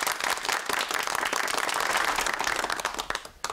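Studio audience of a TV comedy series breaking into lively applause, loud close clapping with sharp individual claps that stays dense before tapering off at the end.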